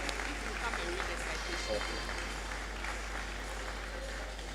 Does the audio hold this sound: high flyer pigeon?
no